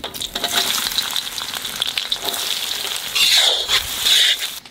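Whole spices (cloves, cinnamon, cardamom and bay leaf) frying in hot oil for a banquet-style turkey curry, a steady close sizzle that swells into louder crackling bursts near the end, with no talking.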